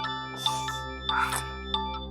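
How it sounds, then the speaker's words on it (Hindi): A phone rings with repeated bright electronic chimes, three or four tones spaced evenly, fairly close and clear over a steady low hum. "तुम्हारा फोन बज रहा है, प्लीज उठाओ।"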